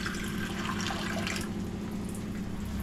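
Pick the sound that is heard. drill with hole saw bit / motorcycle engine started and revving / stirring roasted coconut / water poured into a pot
water poured into a pot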